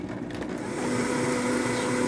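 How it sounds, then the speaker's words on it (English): Kitchen blender running on its stand with the lid on, blending cherries, mint, pineapple and agave nectar; a steady loud whirring motor drone that builds and holds throughout. "let's go ahead and put that on our blender stand, and we'll put the lid on it"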